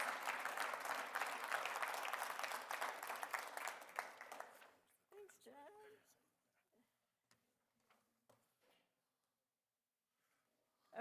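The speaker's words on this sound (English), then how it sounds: "So let's all give a big clap for Dr." Audience applause at a memorial lecture, a dense burst of clapping filling the room for about five seconds before fading into scattered claps, shuffling and a few murmured voices.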